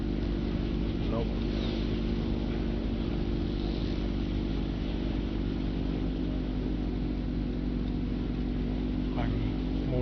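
A propeller fighter plane engine drones steadily in War Thunder, a constant low hum with tonal whine holding level throughout, flying on emergency power, a plane passing faintly at moments.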